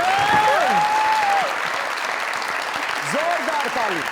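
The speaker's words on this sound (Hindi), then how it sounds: "जोरदार ताली।" A studio audience applauds on a comedy show. The clapping is dense and steady, while a voice speaks with rising and falling pitch over it.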